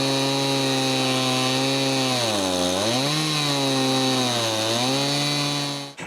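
A chainsaw running in a homemade wooden chainsaw mill while cutting logs, a loud close steady whine whose pitch sags twice as the bar bites into the wood and then recovers, cutting off at the very end.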